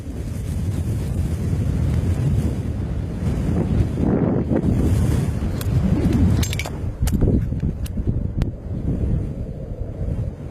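Wind roars across the open Jampir desert in Pakistan, a loud, steady buffeting rush with gusty surges against the microphone and no talk.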